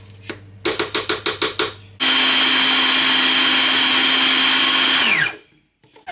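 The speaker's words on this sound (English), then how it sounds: "Now that I've finished blending all the seasoning in the food processor" A food processor blends Jamaican jerk seasoning ingredients, first in six short loud pulses, then in one steady, loud, high whirring run of about three seconds that winds down abruptly.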